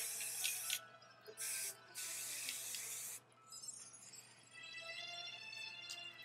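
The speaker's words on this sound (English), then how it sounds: "I'm just going to spray. I'm going to spray the back." Several bursts of hissing hairspray sprayed on the back of the hair, each lasting under a second, with short pauses between, close by and fairly loud.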